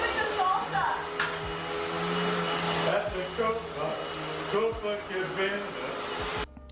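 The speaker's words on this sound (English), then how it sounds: "The vacuum." A vacuum cleaner runs with a steady, loud whooshing roar, its pitch shifting slightly as it moves, before cutting off near the end.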